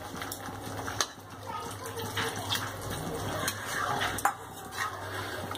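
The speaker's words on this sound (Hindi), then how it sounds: "अपनी रिक्वायरमेंट के हिसाब से इसमें पानी डाल दें।" Water is poured into kadhai paneer gravy in a pan, making a steady wet splashing with occasional clinks of utensils throughout.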